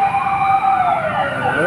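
A fire truck siren wails steadily through heavy Manila traffic, loud and close, its rising-and-falling tone sweeping over a low rumble of street noise with a voice faintly mixed underneath.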